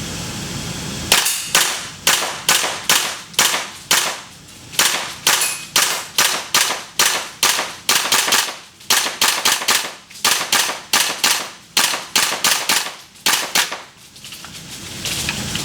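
A WE Tech M4 gas blowback airsoft rifle on a full gas tank fires in cool, humid air: a steady string of about thirty sharp, loud reports with crisp bolt action, paced evenly with a couple of brief pauses.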